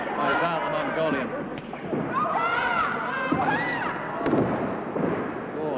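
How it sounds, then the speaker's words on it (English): An arena crowd at a 1983 televised professional wrestling bout cheers and shouts throughout, loud and continuous, while a commentator talks over it. "Crowd giving Ali the encouragement they can."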